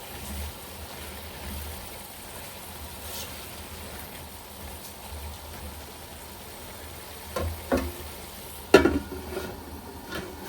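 Prawns fry in a pan for a Bengali shrimp and greens dish, with a steady soft sizzle close by. Occasional scrapes of stirring get louder near the end, under a faint low hum.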